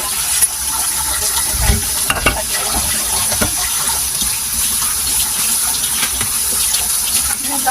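Running water rinses off a coffee scrub, a loud close tap-like stream with splashing and rubbing bursts, steady throughout without speech.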